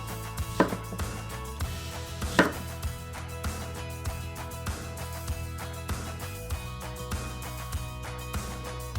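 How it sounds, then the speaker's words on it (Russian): A knife chops large onions into thick rings on a cutting board, giving a few sharp, irregular thuds over a steady background of kitchen hum. "5 луковиц рубим шайбами."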